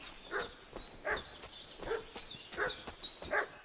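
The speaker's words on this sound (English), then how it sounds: "What's that dog making such a fuss about?" A dog in the video game Kingdom Come: Deliverance II barks repeatedly at a steady pace, about six sharp yelps at moderate distance with nothing else audible.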